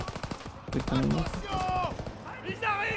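Rapid machine gun fire in the Call of Duty D-Day landing at Omaha Beach, a dense rattle of close shots over the first second, followed by tonal game sounds and voices.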